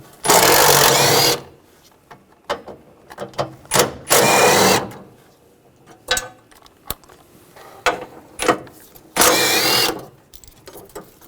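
A ratchet with a 13mm socket works on a 2010-2017 Chevrolet Equinox during transmission cooler line replacement, giving three loud, close runs of rapid clicking with scattered single clicks between them.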